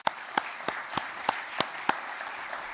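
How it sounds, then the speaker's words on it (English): Light applause from a ceremony audience honoring acquisition Hall of Fame inductees, a soft wash of clapping punctuated by several sharp, evenly spaced individual claps standing out near the front. "Another round of applause."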